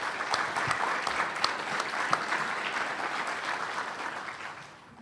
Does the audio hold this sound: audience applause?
yes